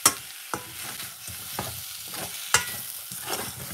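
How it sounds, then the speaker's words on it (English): A spoon stirs pineapple ginger green tea with cinnamon in a pot, making sharp clinks against the metal among soft swishing strokes, close and moderately loud. "I just give it a little bit of stir"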